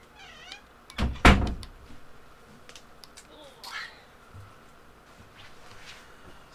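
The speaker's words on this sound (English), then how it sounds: "Oh, there's a cat at the door. You want to let the kitty in?" A cat at a house door gives a couple of faint meows, heard after a sharp loud knock or thump, with quiet room noise around.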